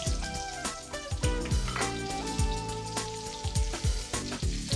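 Onion drops into a hot wok with dried chilies and crackles and sizzles loudly, with a few scrapes of a utensil against the metal. The sound is close, and no one talks.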